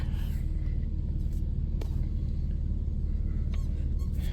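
A 1990 Dodge Grand Caravan LE rolls slowly out of a storage unit, its engine a steady low rumble close by with faint brief clicks and knocks, no talking.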